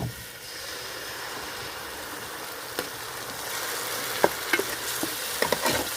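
Puréed tomato hits hot oil for a village-style okra pulusu, giving a continuous soft sizzle that builds slightly, with a few sharp clinks from stirring toward the end.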